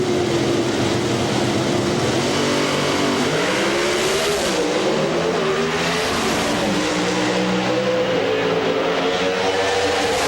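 A Pontiac Firebird and an Oldsmobile drag race at the 1999 NHRA Pennzoil Nationals in Richmond, engines roaring loud and continuous with rising and falling revs as the cars pass.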